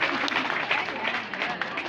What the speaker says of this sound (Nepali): गोवाबारीबाट आमा समूहहरूलाई फेरि पनि जोरदार ताली बजाइदिनेछौँ।